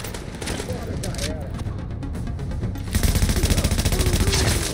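Rapid automatic gunfire in the shooter The Division, a continuous rattle of shots that grows louder and denser midway, with a voice speaking over the firing.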